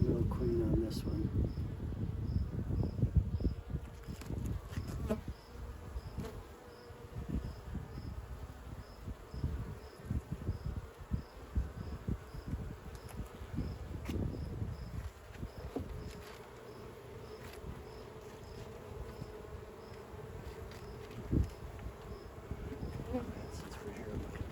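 Honey bees buzzing around an open hive during an inspection, a dense continuous drone with individual bees passing close, plus handling knocks and rustles, moderately loud and steady, with no talking.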